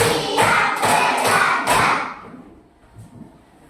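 A class of children claps in unison during a counted clapping routine, about five loud rhythmic group claps in quick succession, then fading into quiet room tone with a faint trailing tap.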